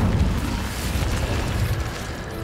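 The Incendio fire spell in Hogwarts Legacy, heard as a dense, booming burst of flame that rumbles steadily and loudly with a deep low roar for a couple of seconds.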